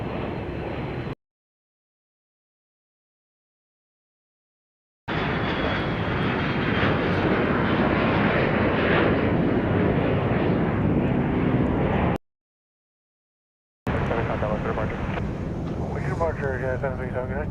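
Airplanes at Dallas Love Field airport, a loud continuous jet engine roar close by across most of the stretch, broken by two dropouts into silence, with a voice talking near the end.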